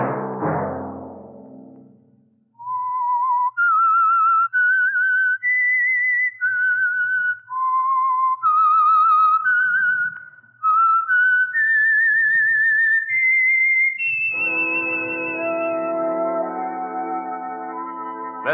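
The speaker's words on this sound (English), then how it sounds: "Let that whistle be your signal for the Signal Oil program, The Whistler" The Whistler radio program's signal tune is whistled: a clear, close melody of sustained, sliding notes in short phrases that runs for most of the clip, followed by orchestral chords.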